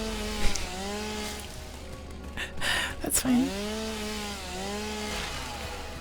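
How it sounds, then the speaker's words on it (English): A chainsaw in the video game Satisfactory drones steadily, its whining engine pitch rising and falling in sweeping revs under brief speech, with a louder burst of cutting noise midway. "Chainsaw time."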